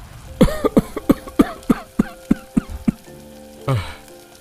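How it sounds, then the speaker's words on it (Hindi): A rapid run of about ten harsh coughs from smoke in a steady rhythm, close and loud, followed by a final longer cough. "अरे मुझे भी बहुत खांसी आ रही है"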